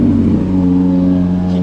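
Loud Honda car with a VTEC engine driving past nearby, its engine revving in a steady, sustained drone with strong low harmonics throughout, heard alone.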